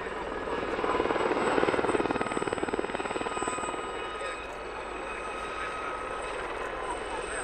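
A Westland Gazelle military helicopter of the Army Air Corps flies at the Abingdon Air & Country Show, its rotor thudding rapidly in a steady chop with a turbine whine, swelling then easing slightly, heard from a distance.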